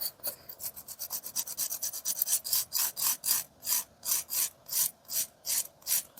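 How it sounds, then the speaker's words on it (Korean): Toenail filed by hand with a salon-style nail file, a steady series of rhythmic rasping strokes, close and fairly loud, with no talking. "네일샵에서 쉽게 쓰는 파일로 이 부분만 조금 다듬어주면 돼요"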